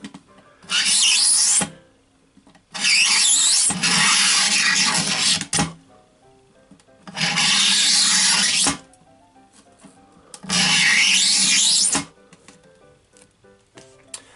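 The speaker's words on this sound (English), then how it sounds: "You just score a line. You just want to repeatedly do this in the same place." Blade repeatedly scoring a line in an enclosure panel for a tarantula or mantis habitat, four loud scraping bursts of one to two seconds each, separated by short quiet gaps.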